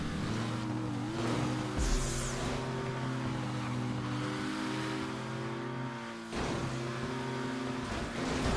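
A car engine revs in a GTA Online stunt race video game, with a steady sustained drone and shifting pitch, a brief surge near two seconds and another change around six seconds, with no talk.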